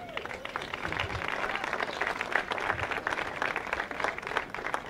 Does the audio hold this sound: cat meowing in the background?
no